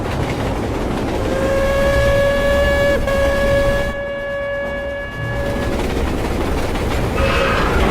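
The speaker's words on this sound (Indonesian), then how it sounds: "terlihat sekelompok koboi memperhatikan sebuah kereta api yang berjalan melintasi lembah." A train rumbles along steadily across a valley with a long, sustained horn blast over the rolling noise, a brief dip partway through, then the rumble continues.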